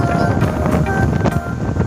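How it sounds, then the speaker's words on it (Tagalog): Strong wind rumbles and buffets the microphone continuously, loud and close, with faint voices mixed underneath. "lakas ng hangin"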